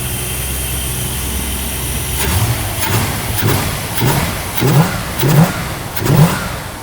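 A classic car engine with thermo-quad carburetor idles low and then revs in a series of rising bursts, each louder than the last, with no voices.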